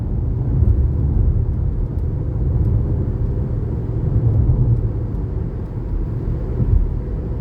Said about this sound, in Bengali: হাজার হাজার গাড়ি চলতেছে,